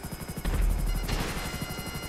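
FH-1 Hunter attack helicopter in GTA V Online, a rapid rotor thump pulsing steadily under a whining engine, with a louder burst of rumble partway through, suggesting gunfire or impacts.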